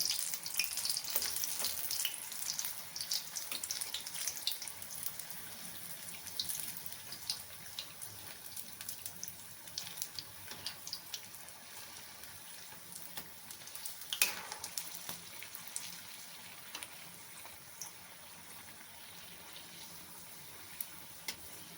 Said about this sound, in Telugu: ఆయిల్ని హైలో పెట్టుకున్నాం కదా, ఇప్పుడు మళ్ళీ దీన్ని వేసేద్దాం